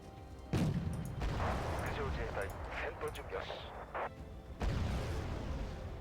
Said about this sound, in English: those K1s are taking a battering from the recoilless rifle troops